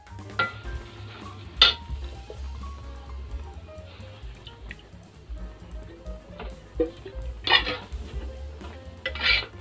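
Chicken pieces go into fried onion masala in a pan for cashew nut chicken curry, with a steady low sizzle under clinking spoon-on-pot stirring and scraping, a few sharper metallic knocks standing out.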